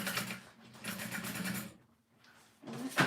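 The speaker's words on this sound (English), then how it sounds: "you're just going to sew that closed" A sewing machine runs in short close bursts of buzzing, sewing a seam closed on a small beauty bag, with a brief quiet gap between runs.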